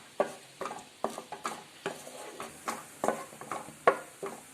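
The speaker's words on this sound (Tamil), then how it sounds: "எல்லாத்தையும் எல்லாம் ஒன்றா வர மாதிரி நல்லா மிக்ஸ் பண்ணி விடுங்க" Sauces including soy sauce being stirred together in a pan for Korean-style chicken fry, with a spoon scraping and clinking in a steady rhythm of about two strokes per second, close and fairly quiet.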